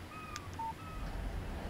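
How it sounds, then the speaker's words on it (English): A phone text message alert from the Alan Wake video game: a few short electronic tones and chirps, quiet and brief, over a low steady background hum. "Text message from Barry."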